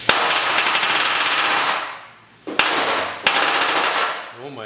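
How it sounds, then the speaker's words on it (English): An air hammer pounds the metal body panel of a 1972 Triumph GT6 under restoration in loud, rapid machine-gun bursts, one long run followed by a pause and two more bursts. "You just push it against the metal and it hammers."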